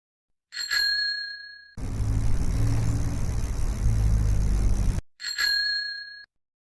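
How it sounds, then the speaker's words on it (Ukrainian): A bicycle bell rings in two clear bursts, one at the start and one at the end, with a loud low rumble filling the gap between them. "Вірно, це велосипед."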